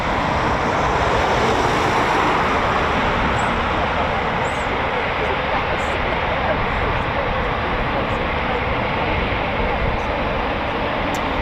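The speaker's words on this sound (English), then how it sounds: "the Typhoon in the Royal Air Force is designated as the Typhoon FGR4." A Eurofighter Typhoon FGR4 jet at RAF Coningsby gives a loud, steady, broadband roar that fills the whole stretch without letting up.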